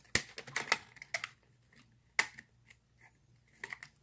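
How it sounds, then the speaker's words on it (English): A Brinks 2-inch high-security brass padlock being pulled from its packaging, heard as a series of sharp plastic crinkles and clicks in irregular bursts, with quieter handling gaps between them. "First I got to get him out of the packet."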